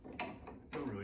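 Mechanical ratcheting clicks from a wrench tightening a nut on the bolted frame of an ultralight aircraft under construction, two short bursts of close, quiet metallic clicking.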